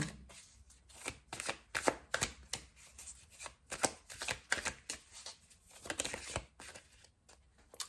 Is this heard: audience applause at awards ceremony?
no